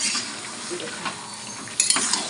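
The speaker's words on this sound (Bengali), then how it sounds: "এবার বারবার নাড়িয়ে কষিয়ে নেব বারবার নাড়াতে থাকবে" A utensil scrapes and clinks against a pan while chicken kosha masala is stirred, with a faint sizzle beneath and a sharper metallic clatter near the end.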